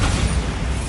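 Bombarda spell blast in Hogwarts Legacy, a short loud booming burst with crackling debris that fades within a second, heard alone.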